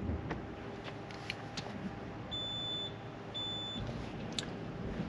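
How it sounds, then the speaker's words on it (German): Two short electronic beeps from a Caratec alarm system confirming locking of a Frankia 7900 Plus Platin motorhome, sounding a second apart over a quiet outdoor background with faint clicks. "Die Alarmanlage quittiert zweimal, also es ertönt ein zweimaliger Quittierton."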